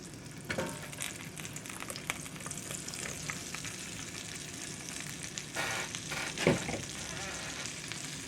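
Vegetables sizzle steadily in butter on a very hot pan, a dense, continuous frying hiss with occasional louder spits and stirring scrapes, and no talking over it.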